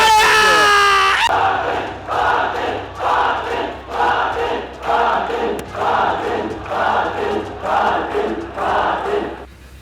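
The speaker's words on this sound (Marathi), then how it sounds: "मराठा आंदोलकांनी जल्लोष केला" A large crowd of Maratha protesters cheering and celebrating, loud rhythmic chanting in repeated surges after a brief tonal opening, close and filling the space with no single voice standing out.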